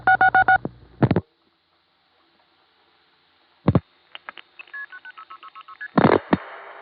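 Touch-tone keypad digits 1-2-1 are keyed into a mid-1970s telephone line on the Warwick, New York exchange, crisp close dual-tone beeps in short bursts separated by clicks and pauses, with no voices.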